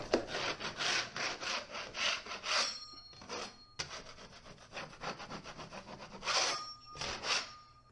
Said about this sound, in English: Just scraping any of the higher ridges down with my 6-inch knife.